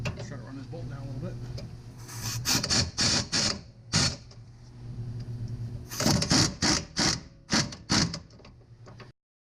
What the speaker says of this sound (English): Let's try to run this bolt down a little bit.